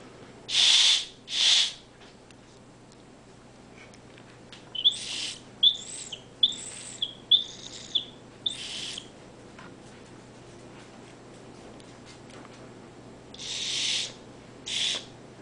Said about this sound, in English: at one point there I was getting little chirps out of it that sounded actually like a real whistle